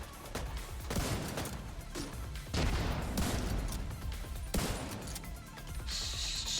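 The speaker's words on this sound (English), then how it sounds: "Laying people out with my grenade launcher." Grenade launcher firing in a first-person shooter, a string of heavy thumping shots and blasts spread across the stretch, fairly faint overall, with no talk.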